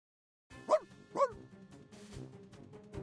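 Two sharp dog barks ring out a moment apart in the video game Reverse 1999, followed by softer thuds and a low ambient backdrop; the barks sound moderately near rather than truly distant, with no speech.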